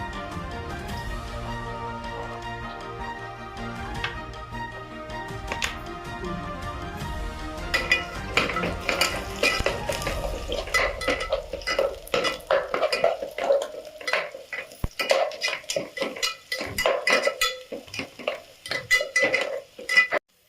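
Tomatoes and onions sautéing in a pan for mutton biryani: a spoon scrapes, taps and clinks against the pan in irregular close strokes, with a faint sizzle, following a tonal musical opening.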